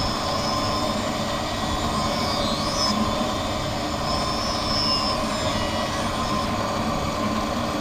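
A lens edging machine cuts and bevels an eyeglass lens with a water spray, producing a steady, loud whirring roar that stays even and unbroken throughout.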